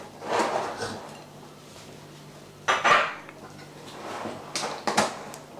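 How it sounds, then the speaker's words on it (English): Knife run around the inside edge of a metal cake tin holding an apple and lemon drizzle cake, giving scraping metallic rasps and light clinks in irregular bursts, close and moderately loud. "I think I'm going to play on safe and just run a knife around the outside."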